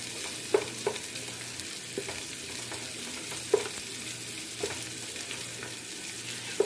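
Garlic and onion fry in a pan as the base for adobo, giving a steady sizzle broken by occasional sharp pops and stirring clicks, close and alone without speech.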